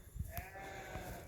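A sheep in a farm barn also housing horses and goats gives a short, faint bleat or two at a distance, over quiet background noise.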